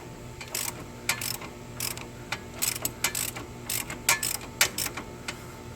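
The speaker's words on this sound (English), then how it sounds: "I'll just get on the lower one down here and take that nut completely off" Close, quick ratcheting clicks from a wrench loosening a nut on a Ford Explorer during engine removal. They come in irregular bursts of rapid clicks over a steady background hum.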